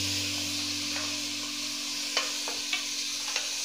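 Tomato, garlic and onions sauté in a pan with a steady hiss of sizzling oil, broken by a few light taps and scrapes of stirring, close up with no talk.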